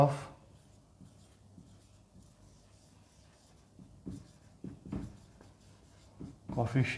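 A teacher writes on a board during a maths lesson, with soft scratchy strokes and taps coming and going beneath ongoing classroom speech.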